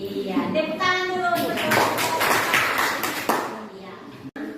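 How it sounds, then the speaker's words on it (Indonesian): Schoolchildren in a classroom clap their hands in a quick burst that follows children's voices, the clapping dense for a couple of seconds before ending abruptly. "tepuk tangan dulu"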